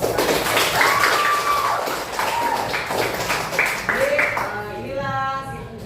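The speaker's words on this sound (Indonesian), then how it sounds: "Oke, sekali lagi tepuk tangan." Classroom students clap in quick, uneven bursts, with children's voices and chatter mixed in over the clapping.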